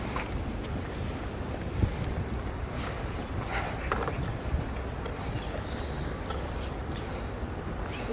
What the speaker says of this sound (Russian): Ветерок дует, да?